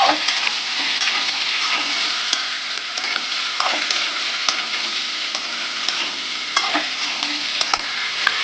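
Mixed vegetables for dudh shukto fry loudly in a pan, a dense steady sizzle punctuated by repeated spatula scrapes and knocks, close and without talk.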